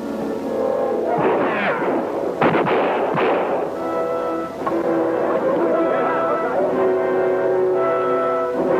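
Gunfire in a 1952 adventure film serial, a few sharp shots and bursts with echoing reports amid shouting and chatter, loud and close over a noisy battle scene.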